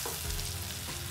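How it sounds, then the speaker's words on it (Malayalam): Tomato sizzles and spits in a hot pan while cooking for Turkish menemen eggs, a short, steady crackle with no voices. "തക്കാളി ചേർത്ത് കൊടുക്കാം"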